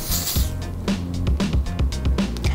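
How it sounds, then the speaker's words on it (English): A short hiss of cooking oil spray onto a waffle maker opens the sound, followed by rhythmic low clattering and scraping handling noises close by. "Don't forget to spray your waffle maker with cooking oil."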